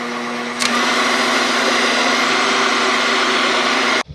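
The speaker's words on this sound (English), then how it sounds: "To clean this up, I'm actually just gonna put it right in my blender." Natural nut butter whirs in a hand blender, a steady motorized drone holding evenly for a few seconds before it cuts off abruptly.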